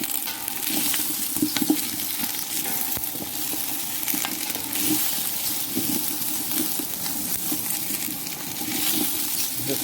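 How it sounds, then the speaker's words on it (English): Steady sizzling of pigeon meat frying in hot oil, a continuous crackle with small pops, close up and uninterrupted by talk. "You can hear him sizzling away."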